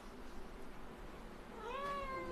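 A person imitates a cat's meow in a repeated, sing-song way, performed as part of a comic cross-talk routine. Two rising and falling calls come near the end after a quieter stretch of low background murmur.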